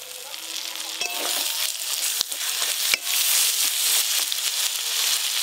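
Grated tomato sizzles and fries in a pan of ground spice paste, a steady loud hiss with a few sharp stirring clicks, no talking.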